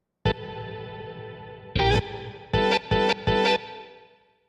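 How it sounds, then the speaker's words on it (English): A processed electronic dance music synth sound shaped with OTT compression, saturation, trimmed low end and reverb plays as one long note, then a cluster of short repeated stabs with a reverberant tail. "crank the OTT a little bit, cut out some of the low end, maybe to like 48, even slightly saturate it right here, like put some saturation on it, and then reverb."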